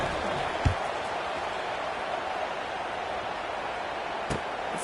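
Steady roar of a stadium crowd in the College Football 26 video game, a broad continuous cheer filling the whole span with two brief sharp thuds standing out over it.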